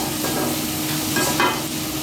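Potatoes frying in oil in a pan with salt for aloo bhaji, a loud, continuous close sizzle with faint stirring scrapes and no talking.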